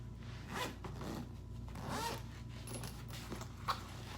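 Zipper on a travel bag being pulled open in several close, quiet rasping strokes, with no voices.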